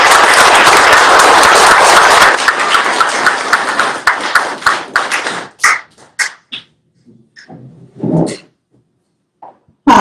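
A round of applause from the audience at a political fundraiser meet-and-greet in Chicago, loud and dense at first, then thinning into scattered individual claps that fade out, followed by near silence.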